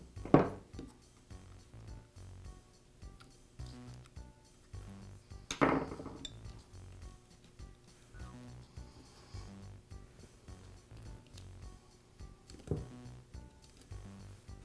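Small metal parts clink and tap while brush pieces are handled in a DeWALT angle grinder, with a few sharp knocks standing out over quieter fiddling.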